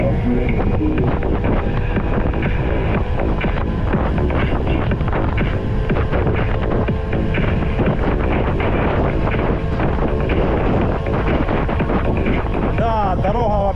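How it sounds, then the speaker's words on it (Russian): Loud, continuous warm headwind buffeting a microphone on a road in Crimea, a heavy rumbling roar that barely changes for the whole stretch. "Ветер, блин, встречный, но теплый."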